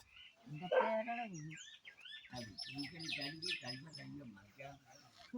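Chicks chirp at close range in a home, giving thin, high peeps in quick clusters while a person talks over them.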